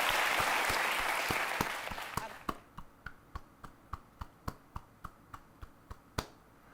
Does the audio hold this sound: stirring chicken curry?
no